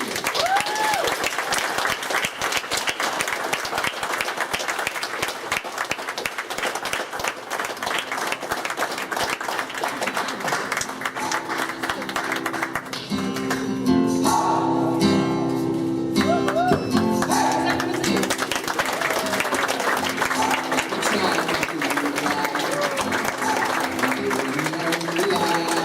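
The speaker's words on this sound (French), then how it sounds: "On les applaudit!" Wedding guests applaud a newly married couple at a Quebec wedding reception, steady loud clapping filling the whole stretch with crowd noise swelling and cheering in the middle.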